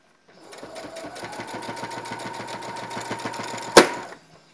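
A sewing machine runs steadily, stitching a folded fabric strip over elastic on a backless frock, its needle ticking in a fast, even rhythm before a sharp clack near the end and a stop.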